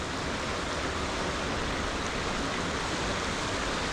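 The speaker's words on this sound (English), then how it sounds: "Turbulent water flow." Turbulent water rushes near a power plant on an early-spring riverside ride in River Falls, a dense, steady, broadband roar like a weir or rapids, loud and close with no voices over it.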